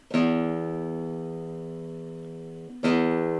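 A single low E guitar string is plucked and rings out steadily with rich harmonics, then is plucked again near the end, with no talking.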